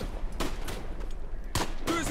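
Gunfire in the WWI video game Tannenberg, a few loud bursts of shots crackling out against a constant battlefield din, with two sharp volleys standing out near the end.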